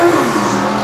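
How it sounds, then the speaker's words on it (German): A drag racing car revving to warm up its tyres, one sustained loud engine roar with a fairly steady pitch, heard close and without talk. "da werden erstmal die Reifen wieder aufgewärmt"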